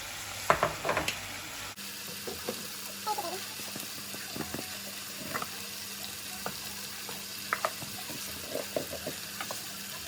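Tomato cooks in a pan after salt and sugar are added, giving a soft sizzle under scattered stirring scrapes and light clinks, with a brief louder clatter at the start.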